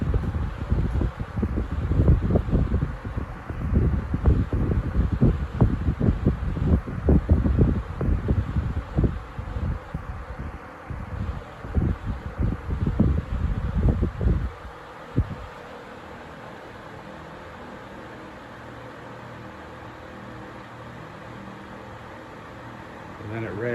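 A Patton U2-20 fan running with a new blade gives a steady soft whoosh of moving air, with someone talking over it for the first fifteen seconds before the airflow continues alone.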